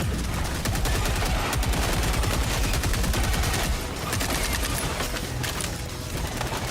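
Two Tenderizer assault rifles fire together in Helldivers 2, a loud, rapid stream of automatic gunfire that hammers on nearly without a break before easing slightly toward the end, with no voices over it.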